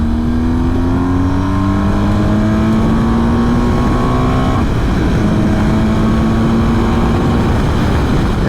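A loud car engine revs up through rising gears on the Grossglockner road, its pitch climbing, dropping at a shift, then climbing again, close and continuous with no talking.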